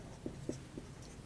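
A pen scratches out a math solution on paper in a few quiet, quick strokes over a low background hum.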